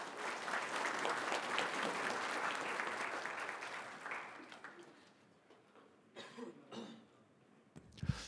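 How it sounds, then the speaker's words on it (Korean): An audience at a fair trade compliance symposium applauds for several seconds before the clapping fades, followed by scattered coughs and small movements in a quiet hall. "박수로 맞이해 주십시오."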